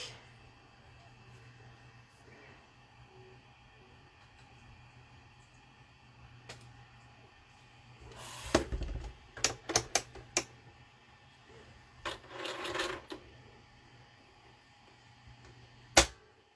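A sewing machine stitches down a tiny paper piece for a dinky mini album in a few short, sharp mechanical bursts of rapid needle clatter, separated by quiet pauses and a final brief click.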